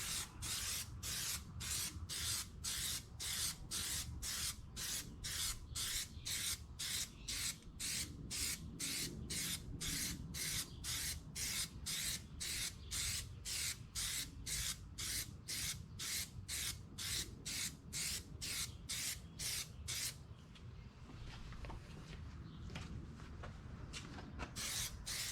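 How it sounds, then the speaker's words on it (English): A Plasti Dip aerosol can sprays in a long series of short, evenly spaced hissing bursts, close and steady, and then shifts into one continuous hiss near the end. "Go ahead and shake for a minute and spray left to right, right to left, whatever you want to do."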